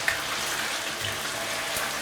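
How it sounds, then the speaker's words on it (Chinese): Soft-centered tofu deep-frying in hot oil in a pan gives a steady, close crackling sizzle that fills the whole stretch without pause. "这一步呢我们炸一下包浆豆腐。"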